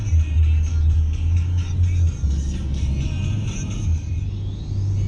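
A Toyota RAV4 on a morning commute gives a steady, loud low road and engine rumble with tire hum, continuous throughout and no voices.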